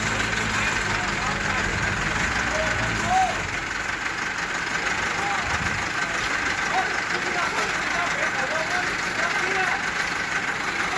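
A vehicle engine idles while the vehicle slowly reverses, giving a steady low drone with faint mechanical knocking that stays even throughout.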